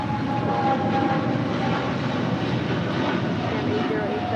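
A Latam Airlines Boeing 777-300ER heavy departing LAX, a steady broadband jet engine roar holding constant and loud from start to finish, with no pauses.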